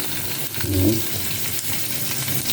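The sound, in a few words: onions and radish sautéing for sambar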